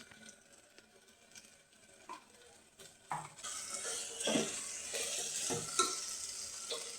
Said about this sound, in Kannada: ಎಣ್ಣೆ ಬಿಡೋವರೆಗೂ ಚೆನ್ನಾಗಿ ಫ್ರೈ ಮಾಡ್ಕೊಬೇಕಾಗತ್ತೆ